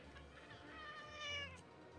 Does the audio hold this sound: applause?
no